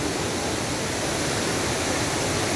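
Düden waterfall in Antalya rushes in a steady, loud, broadband roar of falling water that stays close and continuous with no other sounds.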